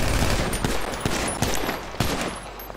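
Gunfire in GTA V roleplay, a burst of rapid, loud shots with several sharp cracks spaced across a few seconds over a dense, noisy background.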